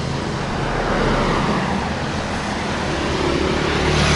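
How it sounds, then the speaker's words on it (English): Road traffic passes behind a motorbike rider on a ride before the rain near Hoi An, Vietnam, a continuous loud rumble and roar of cars and larger vehicles with broadband wind and engine noise throughout. "Just let some traffic behind me pass here."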